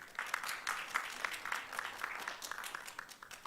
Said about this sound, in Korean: 여러분 다시 한번 바이넥스에 큰 박수 부탁드립니다.